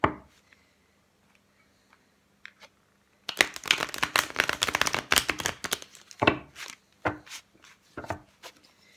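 Ciro Marchetti tarot cards being shuffled by hand, a few soft taps at first, then a dense burst of riffling and slapping cards, followed by scattered shorter shuffles, close and clear with no talk.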